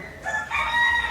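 A rooster crows once, a loud rising call over low background noise.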